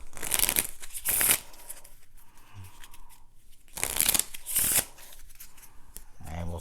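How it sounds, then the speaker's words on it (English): A deck of playing cards being shuffled during a card game, heard as two bursts of riffling with a pause between them, close and crisp, followed by a soft flutter of cards settling. "So we'll shuffle up the deck."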